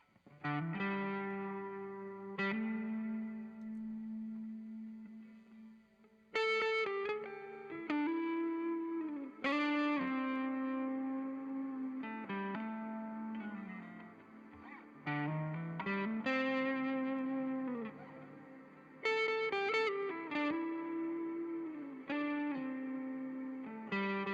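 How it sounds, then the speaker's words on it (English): An Eastwood Airline Jetson's '59 3P Deluxe electric guitar plays sustained notes and chords drenched in heavy reverb from a pedal, each phrase swelling and lingering into a long wash between strums. "very pronounced reverb on there"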